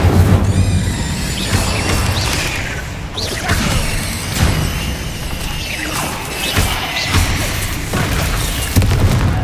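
Fiery spell bursts from the Incendio fire charm in the video game Hogwarts Legacy, loud booming whooshes and crackling blasts repeating across the span amid dense game effects and clatter.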